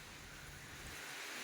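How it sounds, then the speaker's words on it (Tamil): Heavy rain begins falling on a rooftop garden, a steady, dense hiss of water with no breaks, fairly soft and even throughout. "பாருங்க, செம்ம மழை ஆரம்பிச்சிருச்சு."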